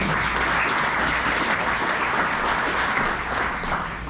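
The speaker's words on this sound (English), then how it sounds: "So let's give them one more round of applause." A room of Rotary club members gives sustained applause to welcome new members, loud, dense clapping that holds steady before easing slightly at the end.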